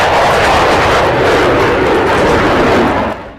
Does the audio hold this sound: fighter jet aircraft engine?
yes